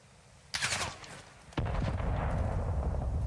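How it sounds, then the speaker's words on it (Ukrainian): Gunfire from a gas station in Call of Duty: Modern Warfare II (DMZ mode): a sharp burst of shots, a short lull, then sustained loud rapid fire that keeps going to the end. "Хтось із заправки стріляє"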